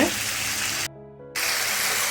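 Chicken in masala sautéing in a hot pan gives a loud, steady, close sizzle that cuts out for a moment, then resumes at full strength.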